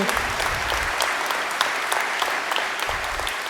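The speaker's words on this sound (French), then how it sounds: "Vous pouvez applaudir." Congregation applauding at a Christmas mass in Lyster, a steady dense wash of clapping filling the church throughout, fairly loud with no voices over it.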